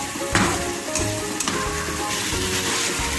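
Chicken fajita filling sizzles and fries steadily in a hot pan, a continuous close crackle with a few stirring scrapes and no talking.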